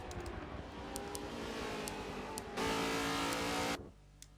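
GT3 and GT2 race cars roaring around a track in a racing video game, a steady engine drone that swells into a louder, brighter burst as one car closes in and passes, then drops back.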